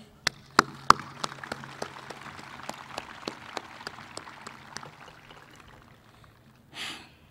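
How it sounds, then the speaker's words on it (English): At a Lenape High School Class of 2018 graduation, faint, sparse claps land one by one in a loose, fairly even rhythm, then fade away, followed by a brief soft rustle. "Let's take a brief moment to applaud ourselves for making it here today."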